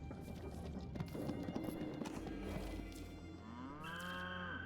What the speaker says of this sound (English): Some cows.